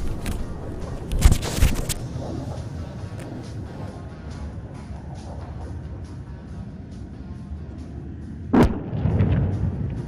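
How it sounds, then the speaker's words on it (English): A laser-guided bomb dropped from an Su-30 MKI strikes a target at a desert firepower demonstration range, heard as distant booming blasts over a steady rumbling background, one burst early and another later. "Even as we speak, the bomb has already been dropped."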